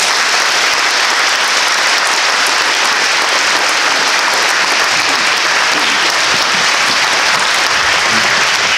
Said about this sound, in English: Audience, if you would join me in giving these individuals a round of applause.